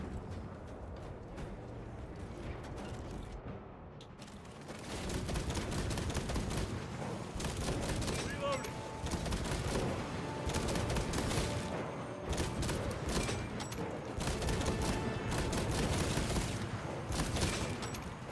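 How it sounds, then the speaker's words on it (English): Rapid, dense gunfire from a weapon in the video game Warhammer 40K Space Marine 2, with bursts of shots continuing for most of the stretch over a busy battle background. "I'm getting headshots from so far away with a very inaccurate weapon."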